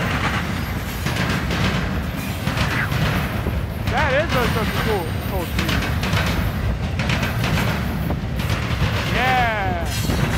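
A Norfolk Southern intermodal piggyback freight train passes southbound near a street railroad crossing on a cold day. Its steady low rumble continues throughout, with people talking over it.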